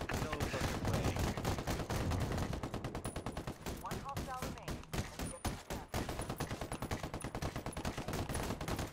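Continuous, dense automatic gunfire in the video game Ghost Recon Wildlands, loud and rapid with overlapping bursts for the whole stretch.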